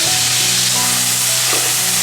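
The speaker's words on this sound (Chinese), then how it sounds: "把剁椒和蒜给炒香" Chopped chili and minced garlic stir-frying in hot oil in a wok, a steady close sizzle with faint stirring, no talking.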